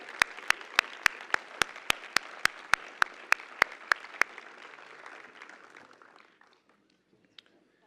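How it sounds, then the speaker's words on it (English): A round of applause for Leadership Long Beach graduates at a 2018 Key to the City presentation: a crowd claps steadily while one nearby person's sharp, evenly spaced claps ring out, then the applause tapers off into near silence. "Round of applause."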